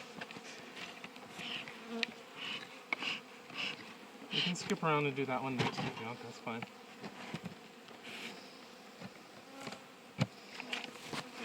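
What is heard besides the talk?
honey bees buzzing around hive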